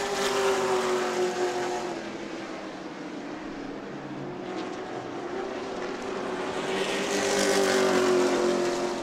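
Race cars in a weekly event at New Smyrna Speedway roar past in a pack, a steady loud engine drone that swells as the field draws near and fades away again.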